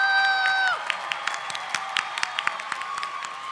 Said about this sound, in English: Let's give a round of applause for all of our Bachelors of Arts in Public Relations graduates.